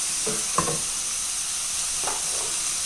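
Chicken and tapioca coated in masala are stirred in a pan, with a steady sizzling hiss beneath a few distinct scraping strokes of the spoon against the pan.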